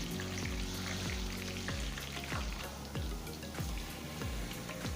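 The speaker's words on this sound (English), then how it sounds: "Add some chopped onions and allow to fry while stirring." Chopped onions and garlic fry in a pan for a Nigerian goat meat stew, giving a dense, even sizzle with a steady run of soft, regular stirring thumps underneath.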